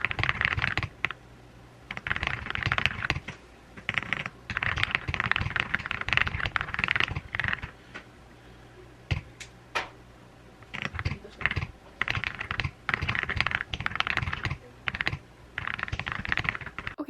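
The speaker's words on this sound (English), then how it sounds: "You did see me typing." Fingers type on a computer keyboard in quick bursts of soft, close key clicks, separated by brief pauses, with faint room noise and no talking.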